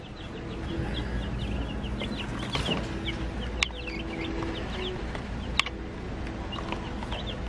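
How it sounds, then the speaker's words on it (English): High, thin peeping from small chicks, many short chirps overlapping, with soft clucking and a couple of sharp clicks in the background. "We already got 10 chickens."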